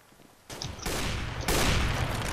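Loud, close gunshots in CS:GO: three sharp reports in quick succession, each leaving a sustained roar that grows heavier with the later shots.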